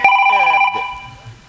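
A mobile phone rings loudly with a steady electronic tone over the first half second, then fades as voices talk over it.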